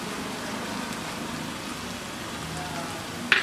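Spices, red chilli powder, goda masala, roasted masala paste and salt sizzle and fry in oil, a steady close crackling hiss with a sharp clatter at the end.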